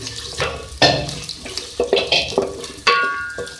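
About 250 grams of thickly cut onions fry in oil in a pan, with a soft sizzle under sharp clanks and scrapes from stirring against the cookware.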